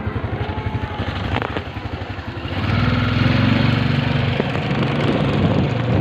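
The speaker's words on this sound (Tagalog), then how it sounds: "Motor, ito na." A motorcycle engine idles with a rapid putter, then revs up into a steadier, louder drone close by on a street in Tondo, with no talk over it.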